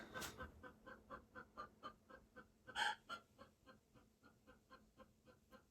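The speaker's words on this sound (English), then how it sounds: "the chicken outside are making noise" Backyard chickens in a city yard cluck outside in a quick, steady run of soft calls, faint and somewhat distant, with one louder squawk partway through.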